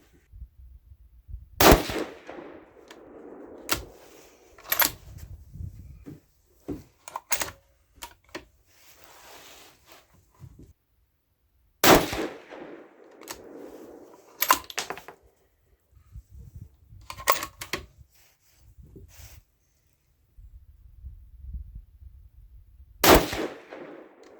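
Rifle shots from a 6mm ARC loaded with Hornady 65-grain V-MAX ammunition, heard as four or five sharp, loud cracks spaced several seconds apart at a range, with quieter handling clicks and faint rumble between them.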